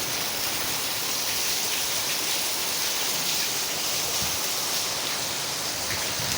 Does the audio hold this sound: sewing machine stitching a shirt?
no